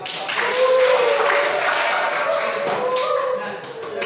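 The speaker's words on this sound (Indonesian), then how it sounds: "Tepuk tangan dulu Mas" A short burst of hand clapping from a classroom group, a dense patter of claps that tails off after a few seconds, with faint voices mixed in.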